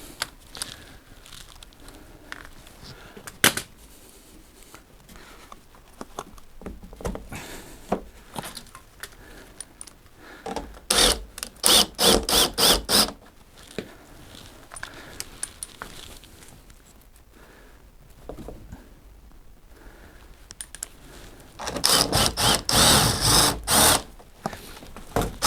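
Screws being driven into the tub front and fascia of a Dyson CR01 Contrarotator washing machine during reassembly: scattered clicks and scraping taps, then bursts of rapid ratcheting driver noise, close by and with no talking.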